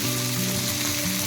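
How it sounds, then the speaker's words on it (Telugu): Mint and coriander leaves deep-frying in oil give a steady, close crackling sizzle that runs unbroken throughout. "ఈ పుదీనా, కొత్తిమీర కొద్దిసేపు ఫ్రై చేసుకోవాలి ఫ్రెండ్స్"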